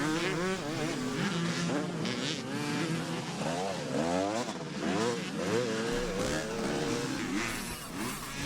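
Several racing motorcycles in an Evolution class race at Stirling sweep past one after another, engines revving and rising then falling in pitch, loud and close, with repeated overlapping passes.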